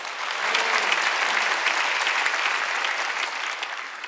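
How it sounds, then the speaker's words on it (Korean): A church congregation at a Sunday worship service bursts into sustained applause, a dense wash of clapping from many hands that swells quickly, holds steady and tapers slightly at the end. "박수."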